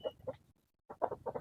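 Tanaka breed chickens clucking in a backyard, a few short close clucks in two bursts separated by a brief pause, fairly faint.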